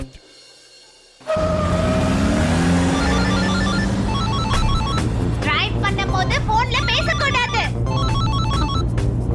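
A phone rings with a repeating electronic tone over a steady background of engine or traffic noise, while voices talk over it.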